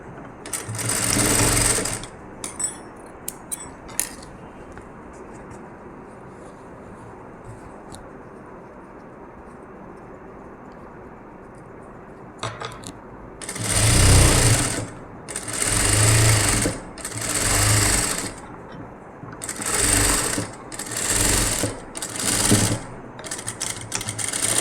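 Sewing machine stitching a puff sleeve: a sustained run of stitching at the start, then a quiet stretch, then several rhythmic bursts of fast machine stitching close to the mic, with no talking.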